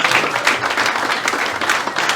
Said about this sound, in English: I want to give you a round of applause for Éamon and Tom for that.